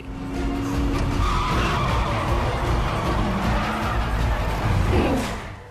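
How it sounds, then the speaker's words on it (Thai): Car tires skid and squeal through a downhill drift down a mountain road in a Japanese-style drift race scene from Fast and Furious Tokyo Drift, loud and continuous over engine roar for about five seconds. "ฉากการดาวฮิลดริฟต์ลงภูเขาจาก Fast and Furious Tokyo Drift"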